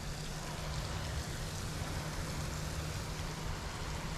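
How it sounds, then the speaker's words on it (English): Steady rain pours down outdoors while someone fishes, a dense unbroken hiss with a low rumble beneath, close and constant throughout. "this rain actually feels amazing"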